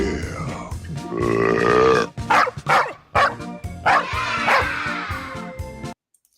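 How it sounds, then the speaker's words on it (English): Dogs bark and yowl in excited, overlapping bursts, close and loud, before the sound cuts off abruptly. "The dogs are here to motivate you, Zach."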